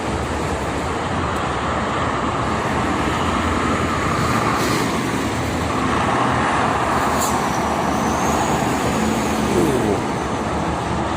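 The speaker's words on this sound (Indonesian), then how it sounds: "Banyak sekali itu truk ke arah barat ya, kontainer sama dump truck." Dense traffic on the Jakarta–Cikampek toll road, with many container trucks and dump trucks rolling past in a continuous loud roadside roar of engines and tyres, steady throughout.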